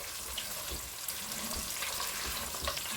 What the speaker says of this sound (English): Okay, so my meat is now in the saucepan